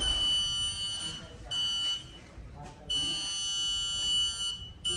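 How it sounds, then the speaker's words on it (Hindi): Buzzer in a student-built smart city model acting as a fire alarm, sounding loud sustained electronic beeps in several long bursts with short gaps between them. "जब हीट इंक्रीज होगी तो बजर बीप की साउंड क्रिएट करेगा"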